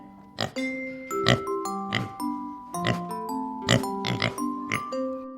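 Pig oinking and grunting in a farmyard, a series of short nasal calls repeating roughly every second, fairly close, with a tonal chime-like melody running underneath.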